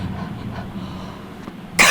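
One strong, forceful cough bursts out near the end to clear mucus during a breathing exercise, following a low steady background hum.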